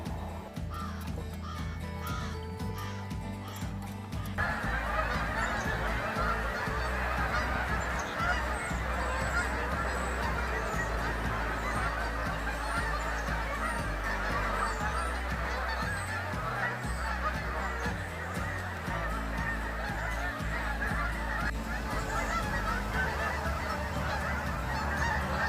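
Canada geese honk continuously and loudly outdoors, many birds calling at once in a dense, overlapping chorus that carries on throughout with no talk.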